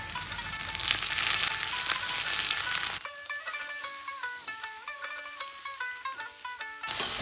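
Fish oil poured over onions, garlic and green chillies frying in a pan gives a loud, dense sizzle for about three seconds, then cuts to music with clear tonal notes.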